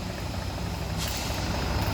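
A heavy empty trailer truck's engine drones loudly and continuously nearby as it climbs a hill in heavy rain, with a brief hiss of air partway through.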